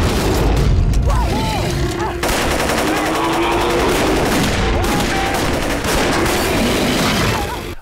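Rapid bursts of gunfire and booms run continuously over a noisy action scene, with voices shouting through the chaos.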